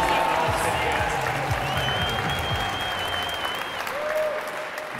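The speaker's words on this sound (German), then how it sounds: "Jetzt bitte ein ganz großer Applaus für die ersten." An audience at a camping and caravan event clapping for the first pitch presentation, sustained applause with crowd murmur throughout, fairly close and even in level.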